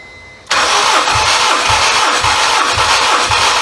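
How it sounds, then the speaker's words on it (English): A Honda K24 four-cylinder engine cranks steadily on the starter during a compression test, its rhythmic, evenly spaced compression pulses loud and close, with no talk over it. "So, I'm going to have Nelson crank the engine until I tell him to stop, and then where it ends up, that's our compression"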